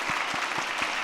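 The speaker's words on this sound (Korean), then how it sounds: "우리 박수로 격려하겠습니다." A church congregation at a Sunday afternoon service applauds steadily, a dense, even wash of many hands clapping at close range with no voices over it.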